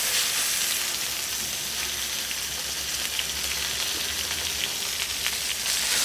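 Three steaks sear in a hot pan with a dense, loud, unbroken sizzle and spatter that holds steady throughout.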